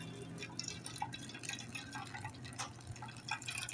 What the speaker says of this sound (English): And I just pour it on.